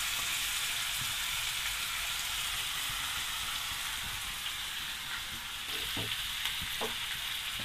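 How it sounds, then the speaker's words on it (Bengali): Butter and chopped onion fry in a very hot pan for a beef sizzling recipe, giving a loud, steady, close sizzle that runs the whole time, with a few faint clinks near the end. "এখন আমি এখানে দিয়ে দিচ্ছি একটা বাটার, দিয়ে দিচ্ছি কিছু পেঁয়াজ কুচানো"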